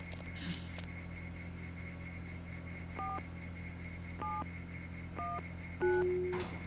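Phone keypad tones in the Deus Ex video game: four short two-tone beeps spaced about a second apart, the last held longer and louder, over a steady low game hum.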